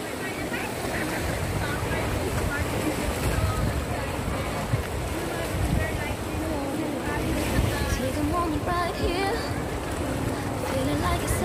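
Wind blows across a beach at Silverstrand in Hong Kong, a constant broadband rush mixed with surf, with people chatting over it.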